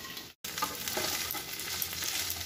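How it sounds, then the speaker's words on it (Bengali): Chicken 65 pakoras sizzle and crackle in hot oil in a pan, a steady close frying hiss that cuts out for a moment near the start and then continues evenly. "এটা একটা হালকা ফ্রাই হয়ে গেল, আর এবার এতে আমি দিয়ে দেব এইভাবে পকোড়াগুলো"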